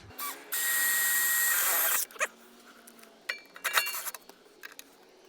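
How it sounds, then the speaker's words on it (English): A power drill whines steadily for about a second and a half while fitting a hide-a-spare under an RV, then stops, followed by scattered clinks and taps of tools and parts. "I think I might be able to drill that there"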